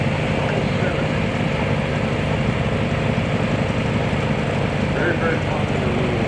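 Cub Cadet Model 7 small garden tractor engine at an antique tractor and steam engine parade in Berryville, Virginia, giving a steady low engine rumble throughout with a person speaking over it.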